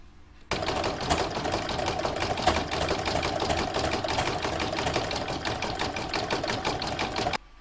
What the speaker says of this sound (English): I've changed my thread back to green to stitch round number 13, which is the rest of the sack.